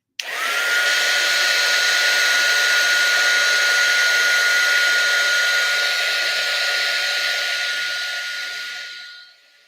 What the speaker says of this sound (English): now we melt the embossing powder